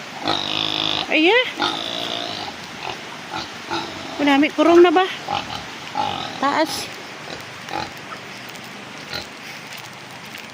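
Pig grunting and oinking in repeated bursts close by, mixed with people talking over and between the animal's noises.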